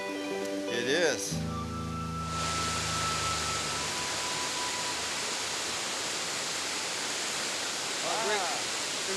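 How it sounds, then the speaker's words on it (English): Waterfall in Belize roaring as a steady, loud broadband wash of falling water, with brief voices and tonal sounds over it at the start before the rush continues alone. "Let's check that waterfall, man. It's beautiful, huh?"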